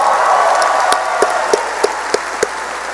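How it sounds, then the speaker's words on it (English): Applause for a graduating high school class fades out at a 2021 ceremony, leaving a few scattered, distinct claps ringing out in the hall. "Let's give them a round of applause for that"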